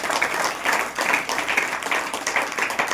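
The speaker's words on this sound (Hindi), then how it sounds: "जोर से ताली बजाकर" A church congregation at a Saturday worship meeting claps loudly and steadily, a dense, continuous burst of applause close up with no talking.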